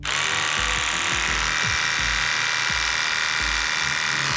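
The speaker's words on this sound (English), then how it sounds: "Got my clippers. Let's see how he reacts." Electric clippers buzz steadily and loudly through a woolly 180 cm horse's coat, a constant high whir with faint rhythmic rasping as the blades bite the thick hair, running unbroken throughout.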